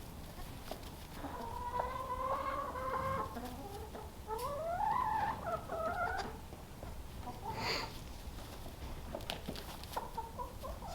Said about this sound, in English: Is that chicken in your cage?